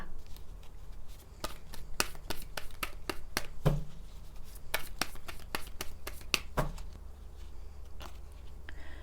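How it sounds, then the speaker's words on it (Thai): Oracle cards being shuffled and drawn for a tarot-style reading, a steady run of crisp, close paper flicks and snaps repeating through the clip with no talking. "ต่อไปแม่หมอเปิดไพ่อร์เคิลเสริมให้นะคะ"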